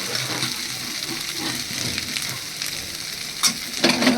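Water going into a fried spice paste for a taro and potato curry, a continuous crackling sizzle with a few louder bursts near the end, close and steady.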